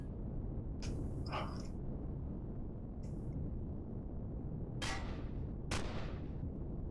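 Gunfire aimed at the player in the space survival game Empyrion Galactic Survival, in a handful of sharp, separate shots spread over a constant low rumbling background.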